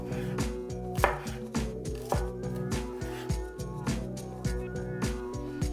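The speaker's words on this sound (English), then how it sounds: "Mince the spring onion into thin strips." A knife chops spring onion into thin strips on a board, a brisk run of sharp, evenly spaced taps close by, with no one talking.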